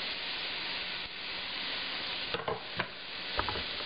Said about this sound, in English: I'm putting in just the onions first because I want the onions to caramelize a little bit first